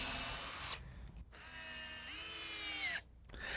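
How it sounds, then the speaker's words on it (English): An electric drill bores pilot holes into the ends of softwood boards, whining in two loud, close bursts with pitch rising and falling as the bit spins up and bites, separated by short pauses. "I first drill pilot holes to prevent the screws from splitting the ends of the boards as they're driven in."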